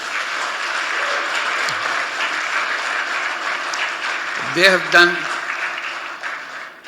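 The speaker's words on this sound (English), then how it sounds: "Let's give a big applause for our young people." An audience gives a big round of applause for young people, sustained and steady for about seven seconds, with a voice briefly speaking over it near the end.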